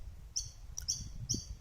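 Birds chirp loudly nearby in a few short, bright tweets spread across a moment, with a low background rumble underneath and no talking.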